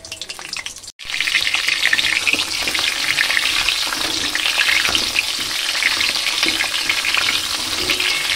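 Potatoes fry in hot oil in a wok with a loud, steady, crackling sizzle heard up close, starting after a brief dip and going on without pause or talk.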